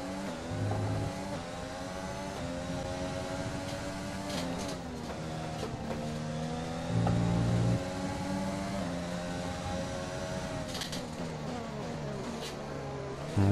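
Simulated Formula 1 car engine in the F1 2020 game at the Hungary race, a steady high whine that drops in pitch as the throttle lifts, staying loud and continuous throughout.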